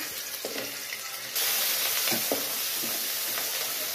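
Ginger hits hot melted ghee and the pan jumps to a louder, steady sizzle, with a few soft clicks of stirring.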